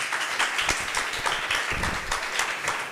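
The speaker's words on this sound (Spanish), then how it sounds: "Ríndale palmas al Señor en esta hora." A congregation claps together during an evangelistic church service, a dense and steady patter of many hands with rhythmic accents, heard from within the crowd and continuing throughout.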